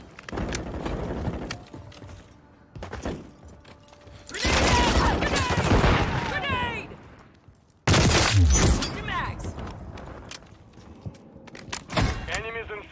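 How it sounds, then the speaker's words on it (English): Grenade blasts and gunfire in the shooter game Modern Warfare 3, with loud bursts of explosive noise, sharp cracks and debris clatter in several waves, mixed with shouted voices. "Grenade down! Grenade!"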